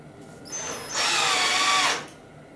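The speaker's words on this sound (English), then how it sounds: "when you're driving the screw down is you'll feel an initial bump when it stops and the pan head of the screw hits the shoulder of the pocket hole" Power drill driving a pan head screw into a pocket hole while building a kitchen cabinet, whirring up briefly and then running hard for about a second before stopping, close and alone.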